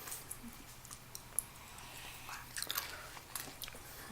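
Crunchy cinnamon-flavoured snack from a monthly subscription box being chewed up close, with faint, irregular bites and crunches over a low background hiss and no talking.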